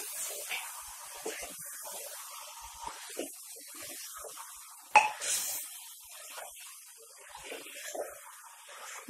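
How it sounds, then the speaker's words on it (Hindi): Chicken fries in masala with black pepper while being stirred, a soft steady sizzle and hiss with scattered spoon scrapes and one sharper clink midway, quiet and close. "चिकन को चला चला के हमने अच्छे से भून लिया है।"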